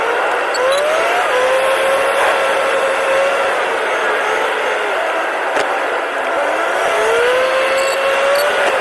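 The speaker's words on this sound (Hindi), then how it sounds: "फिर से आ गया जी BCG चौक, फिर से वही ट्रैफिक जैम" Steady roar of car traffic stuck in a jam at BCG Chowk in Multan, a dense continuous wash of engines with faint tire and horn-like tones drifting through, nearby and unbroken without talk.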